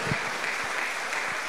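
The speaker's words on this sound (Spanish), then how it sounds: "Denle un fuerte aplauso al Señor" A church congregation gives steady applause during a Spanish-language sermon, a dense, even wash of clapping heard from a distance, with no distinct individual claps.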